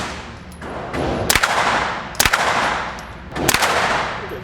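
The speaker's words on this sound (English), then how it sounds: "This is called an MPX, which is essentially a submachine gun." Suppressed MPX 9mm submachine gun fired outdoors in three sharp bursts, each rapid string of muffled cracks standing out over a steady wash of background noise.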